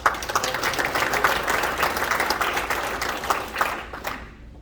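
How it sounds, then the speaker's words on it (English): A crowd claps in steady, dense applause that holds for several seconds, then fades out toward the end. "Please offer them a round of applause."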